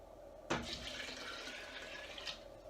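A steady stream of water pours into a soup pot, a soft continuous splashing with a small knock at the start, fairly quiet and close.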